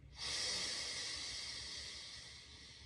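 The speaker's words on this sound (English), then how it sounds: "Deep breath in." A long, steady breath drawn in close to the mic, airy and hissing, swelling quickly and then holding for a couple of seconds before slowly fading.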